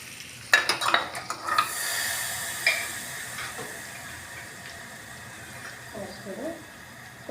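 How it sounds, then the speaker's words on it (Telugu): Hot tempering is poured into a cucumber and carrot chutney and stirred, giving a faint sizzle and soft wet scraping, with a spoon tapping a bowl nearby and a voice speaking quietly. "పోపు పచ్చట్లో వేసేస్తున్నాం."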